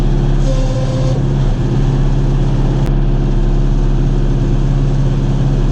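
A John Deere 5101 tractor engine runs steadily during fence trimming in the heat, a loud, close, continuous diesel rumble with a constant low drone and a brief faint whine near the start.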